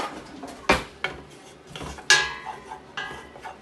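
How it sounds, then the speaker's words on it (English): Cooked spaghetti being stirred in a colander in a kitchen sink gives several sharp metallic clanks and taps at irregular intervals, close and moderately loud, with soft rustling between. "I just need to give that a little stir."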